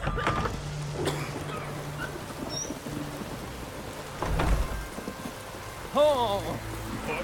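Steady rain hisses throughout in The Witcher 3 with the Hearts of Stone expansion, with thunder rumbling at intervals and a horse whinnying near the end, while people talk over it.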